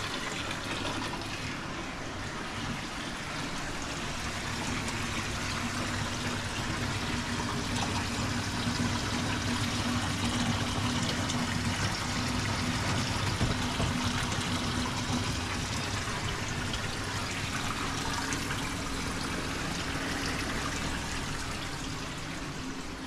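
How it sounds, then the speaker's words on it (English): Water steadily rushes and trickles as it drains from a reef aquarium's overflow valve, a continuous close wash of liquid with no speech. "then I'll open this valve. It comes from the overflow."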